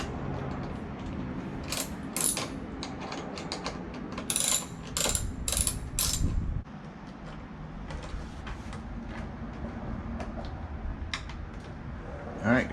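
Ratchet or driver clicking as windscreen screws are loosened on a BMW S1000RR during an MRA Racing windscreen install, bursts of quick ratcheting close up with pauses and small handling noises between.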